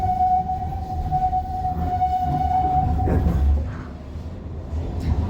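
An Amsterdam tram passes along a city street with a loud rumbling roll and a sustained whining tone, its noise swelling and then easing as it goes by.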